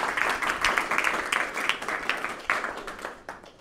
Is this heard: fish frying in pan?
no